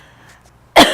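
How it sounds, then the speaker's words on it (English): A single sharp cough bursts out close to the microphone after near silence, brief and loud. "I just had the urge to cough."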